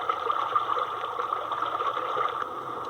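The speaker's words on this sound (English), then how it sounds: "It mainly emits white noise." A circuit-bent noise machine gives off steady white noise that sounds like flowing water, a constant rushing hiss with a slight tonal hum underneath, loud and unbroken with no voices.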